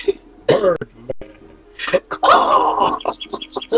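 A man vocally imitates birds with squawks, clucks and throaty chirps in quick uneven bursts, mixed with coughing-like rasps and spoken fragments, loud and close.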